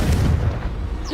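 A Confringo fire spell bursting in Hogwarts Legacy, one short, heavy boom with a deep rumbling low end that fades over about a second.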